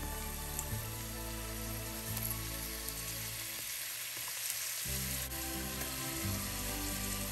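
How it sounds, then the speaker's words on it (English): Crab rangoon deep-frying a few pieces at a time in a pan of oil heated to 350°F, giving a steady, continuous sizzle with tonal background sound running throughout. "Fry the rangoon several pieces at a time until they are golden and crispy."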